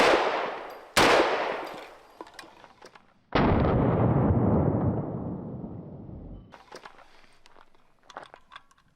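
Two sharp, loud blasts from a Serbu .50-caliber rifle firing SLAP rounds on a ranch, then a third heavier shot with a long rolling echo, followed by scattered small clicks and knocks.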